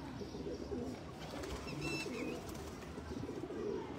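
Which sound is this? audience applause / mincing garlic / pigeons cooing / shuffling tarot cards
pigeons cooing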